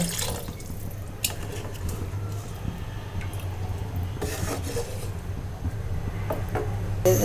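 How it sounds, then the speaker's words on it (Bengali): Water runs and splashes steadily into a cooking pot, with faint drips and scraping under the flow and no talking. "আমি এখানে পানি দিয়ে দিচ্ছি সিদ্ধ হওয়ার জন্য"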